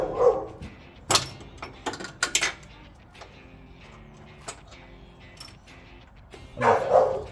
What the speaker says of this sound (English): And now the dogs are starting to bark